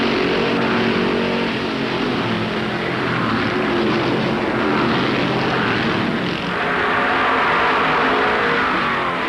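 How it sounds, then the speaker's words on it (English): A 1964 Dodge stock car races at Darlington Raceway during the Southern 500, its engine roaring at full throttle in a loud, sustained blare that swells and dips a little as it runs. "stands on the throttle. Pearson's Dodge leads the race."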